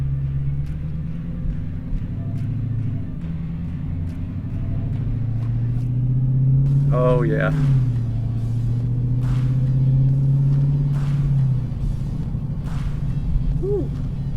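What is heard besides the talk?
Dodge Demon 170 engine revving with exhaust crackles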